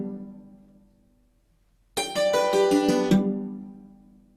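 After a quiet fading tail, a piano plays a short descending phrase of several bright notes, close and clear. Its final note is fully dampened with the dampers staying down, so the sound decays rather than sustaining.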